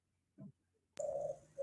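Birds cooing outside a classroom, a short soft coo followed by a louder, sustained call, heard alone without talk.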